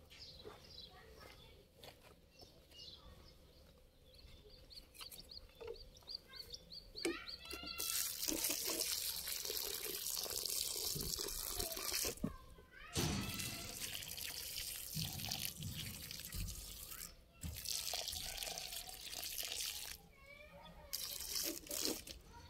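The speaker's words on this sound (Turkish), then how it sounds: "Şimdi bunlara can suyu vereceğiz." Water pours steadily onto freshly planted tomato seedlings in a garden, a continuous close splashing and trickling that swells and pauses, with faint birdsong and a rooster in the background.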